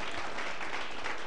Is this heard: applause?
yes